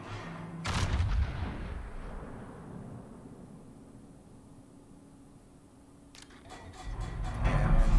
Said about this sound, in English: we're shooting at the Clausewitz because it's the flagship